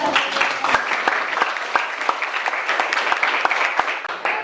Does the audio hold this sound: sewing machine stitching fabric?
no